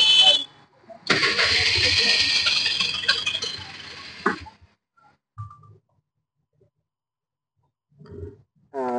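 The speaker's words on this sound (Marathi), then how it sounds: "ही आमच्या भाई मामाची रिक्षा" An auto rickshaw's small engine cranks and catches, running loudly for a few seconds before cutting off, followed by brief clunks and quiet pauses.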